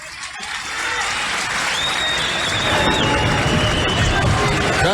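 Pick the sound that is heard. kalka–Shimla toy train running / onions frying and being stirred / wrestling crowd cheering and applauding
wrestling crowd cheering and applauding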